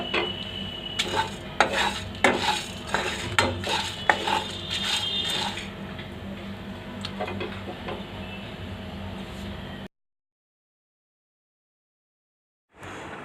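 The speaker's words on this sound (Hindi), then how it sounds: "और इन मसालों को हमें थोड़ा सा रोस्ट कर लेना है" Red chillies, coriander seeds and cumin dry-roast in a pan, a spoon clinking and scraping against the metal in repeated stirring strokes for about ten seconds. The stirring drops to silence, then returns briefly at the end.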